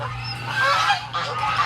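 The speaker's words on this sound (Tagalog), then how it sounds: "Mga gansa." Geese honk repeatedly in a noisy, overlapping chorus close by in Nueva Ecija, Philippines, with a low steady hum underneath.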